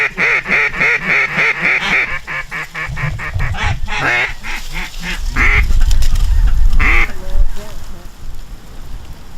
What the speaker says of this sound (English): our first group of ducks for the morning came in.